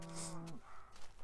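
One short, low moo from a cow in a farming video game, sounding quiet against a constant background hum.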